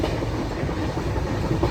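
Okha Rameswaram Express running at about 99 km/h between Surat and Hyderabad, heard from inside a carriage as a loud, steady rumble with rhythmic wheel clatter and no voices.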